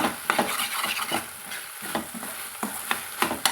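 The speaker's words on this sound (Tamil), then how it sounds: "கத்திரிக்காய் கலந்து விட்டுக்கலாங்க" Brinjal (eggplant) being stirred in ghee in a pan for a ghee fry, with a spoon scraping through the sizzling mixture in several irregular strokes, close and clear, frying hiss underneath and no talking.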